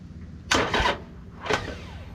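Harley-Davidson Iron 1200 starter cranking on a weak battery while cold and left in gear, two short strained bursts close by that fail to catch, with quiet room noise between.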